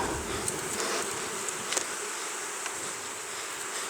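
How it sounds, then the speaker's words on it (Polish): Honeybees work on the frames of an open hive, a dense, steady buzzing close by, with a few louder individual bees passing near. "tutaj mamy w ramkach pszczoły pracują"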